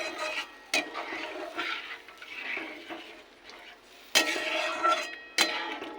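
Coconut milk curry being stirred in a pot while cooking, with a quiet continuous scraping and sloshing broken by a few sharp metallic clinks of the spoon against the pot rim, close and fairly soft.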